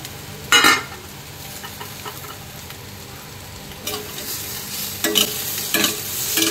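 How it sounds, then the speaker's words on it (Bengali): Frying potato and pointed gourd in a pan with beaten egg going in, a soft sizzle under sharp bursts of spatula scraping and stirring, loudest near the start and again toward the end. "তো এবার আমি ডিমের ভুজিয়াগুলো দিয়ে দেবো"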